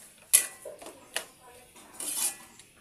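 Food being sautéed in a pan with a utensil, heard as a few sharp scraping clinks of metal against the pan and a light sizzle, close and fairly quiet, with no talk.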